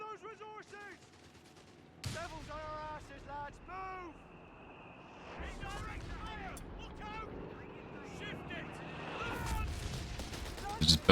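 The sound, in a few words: strafing run gunfire in video game Company of Heroes 3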